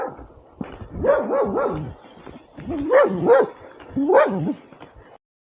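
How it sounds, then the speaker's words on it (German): A dog barks in three yappy bursts, some whimpering, fairly close along a countryside walking route near Kasteel Ten Hove, with quiet gaps between the bouts. "Und ein Hund, der wieder bellt."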